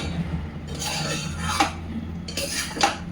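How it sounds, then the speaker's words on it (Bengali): Carrots and milk stirred in a pan for carrot halwa while the milk cooks down, a spoon scraping and clinking against the metal in two louder strokes over a steady low sizzle, no voices. "দুধটা যতক্ষণ না শুকিয়ে যায় ততক্ষণ নাড়াচাড়া করতে থাকবো"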